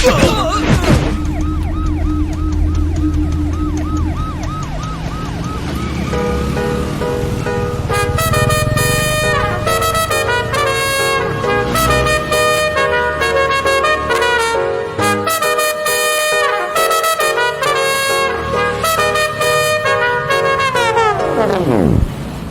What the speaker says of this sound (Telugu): అంబులెన్స్కి దారి